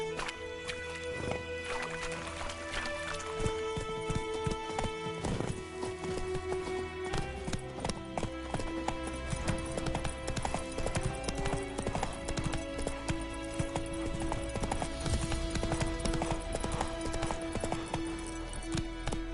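Roach the horse trots steadily in The Witcher, a continuous clip-clop of hooves carrying on over music and game ambience for the whole stretch.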